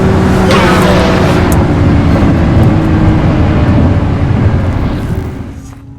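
A Lamborghini Revuelto supercar engine roars loud and close, holding a dense growl before fading away as it races off.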